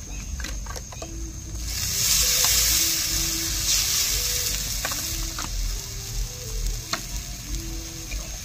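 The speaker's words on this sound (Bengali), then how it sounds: "মশলাতে একটু আমি জল দিয়ে দিচ্ছি।" Water poured into a spice paste frying for village-style duck curry, a loud hissing sizzle that rises and then settles into steady frying with occasional stirring clinks.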